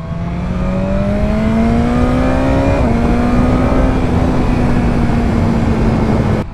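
A BMW naked motorcycle on a race circuit in dynamic mode, its engine droning loud and close with a steady, slowly rising pitch, a brief gear-change dip midway, then holding a strong roar.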